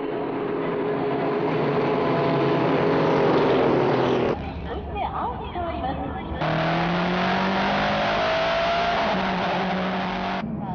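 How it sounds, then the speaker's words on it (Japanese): Nissan R92CP and Porsche 962C Group C race cars at Fuji Speedway, loud engines roaring past with a sharp drop around the middle before returning, while a commentator talks over the noise. "長谷美、鈴木両選手の R92CP に加え、チーム対3の協力によりかつてのライバルポルシェ 962C が特別参加"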